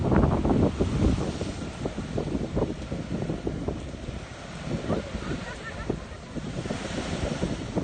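Big ocean waves pound the shore after a storm in Boston, a continuous roaring surf with repeated crashing bursts, heavy wind buffeting the microphone throughout, close and loud.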